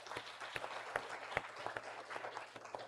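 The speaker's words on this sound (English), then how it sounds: "Please give a round of applause to Professor Yanis." A small audience at a panel event applauds, with scattered claps sounding fairly faint and somewhat distant over a low steady hum.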